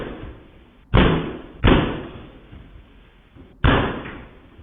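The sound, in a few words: kicking a studio door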